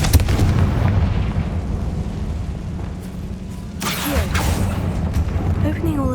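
A Confringo blasting spell fires in Hogwarts Legacy, giving a rumbling, loud explosive burst amid ongoing game noise, with a voice speaking around it.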